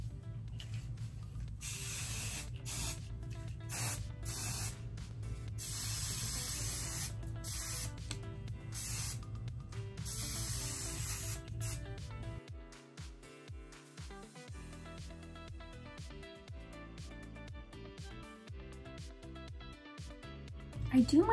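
Hairspray hisses close by in a long, continuous spray of several sustained bursts, then gives way to softer rustling and handling sounds.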